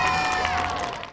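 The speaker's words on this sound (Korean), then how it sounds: "태어난 지 100일 남짓 된 아기곰이 등장하자 함성이 터져나옵니다" A crowd of children cheers loudly at an outdoor plaza as a baby bear, about 100 days old, appears, a brief, dense roar of young voices that fades slightly at the end.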